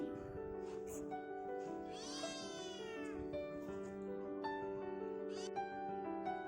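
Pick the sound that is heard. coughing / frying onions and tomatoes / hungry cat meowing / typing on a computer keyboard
hungry cat meowing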